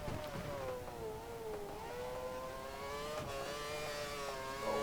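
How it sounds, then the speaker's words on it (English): An F1 car in F1 2013 at Estoril exits a corner with wheel spin, its high engine whine holding steady and close, rising slightly toward the end, with no other sounds over it. "Oh, lots of wheel spin on the exit."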